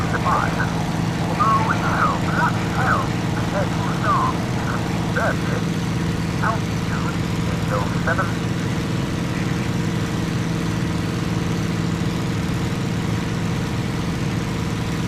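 Steady drone of a single-engine fighter's engine held at combat power in the Cliffs of Dover flight game, a Spitfire-type engine, loud and continuous throughout with faint brief warbling tones over it.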